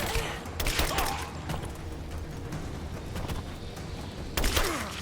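Bursts of gunfire in Rise of the Tomb Raider during a firefight, with a sharp volley near the start, scattered shots through the middle and another loud burst at the end over rumbling background noise.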